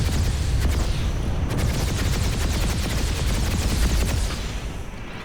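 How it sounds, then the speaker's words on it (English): Small arms gunfire from the video game PlanetSide 2, a dense, steady crackle of many overlapping shots with a few sharper bursts, loud throughout and easing slightly near the end, with no talking. "Small arms fire."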